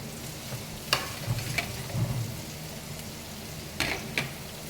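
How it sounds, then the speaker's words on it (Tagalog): Garlic, onion and chili sauté in a pan with a low, faint sizzle, broken by a few sharp scrapes and clinks as a utensil stirs them. "Gisa rin natin ang sili."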